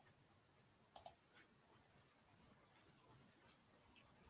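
Sparse, faint clicks of keys being pressed on a computer keyboard, a few isolated taps spaced out across a quiet background.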